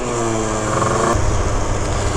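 Small Phantom F12 70cc scooter engine running slightly rich, a buzzy close-up drone that shifts pitch partway through, loud and steady for a couple of seconds with no talk.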